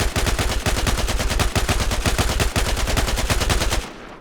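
An RPK-74M machine gun in Battlefield 4 firing long sustained automatic bursts, a fast, even, loud rattle of shots with a couple of brief breaks, ending in a short tail.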